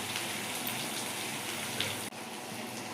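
Onions soften in a pan for chutney, a steady soft close sizzle with a brief dip partway through.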